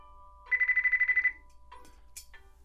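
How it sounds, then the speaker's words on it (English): A Pioneer DEH-X6900BT in-dash car receiver rings for an incoming Bluetooth phone call, giving a loud, fast burst of about ten evenly spaced electronic pulses lasting under a second. Quieter cabin noise and faint shuffling follow. "the in-dash receiver is ringing right now based on my settings"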